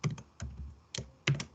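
A cheap computer keyboard clatters in a few quick bursts of clicky keystrokes separated by brief pauses, close and fairly quiet, without speech.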